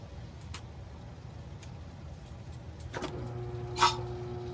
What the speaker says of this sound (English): There's our motor.